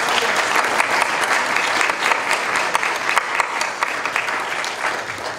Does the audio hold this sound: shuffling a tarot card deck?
no